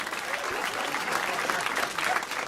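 A comedy club audience claps steadily after a joke, with dense, continuous applause filling the room and holding at an even level throughout.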